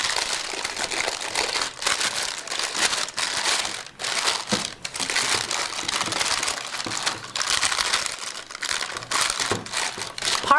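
Unbleached parchment paper crinkles and crackles as fingers press it into a pan in an off-grid outdoor kitchen, with close, continuous bursts of crisp rustling broken by brief pauses.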